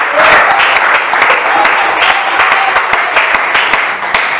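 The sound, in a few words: church congregation applauding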